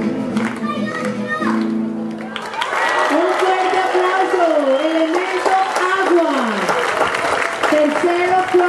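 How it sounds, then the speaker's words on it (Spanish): Applause and cheering from families and children at a school Family Day event, a dense crowd wash running throughout, with children's voices and music-like tones layered over it. "¡Un fuerte aplauso!"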